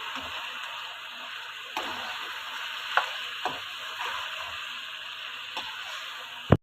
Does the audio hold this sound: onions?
yes